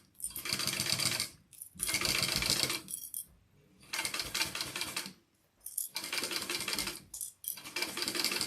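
A sewing machine bastes fabric in four bursts of rapid, close stitching lasting about a second each, separated by short pauses, with no talking.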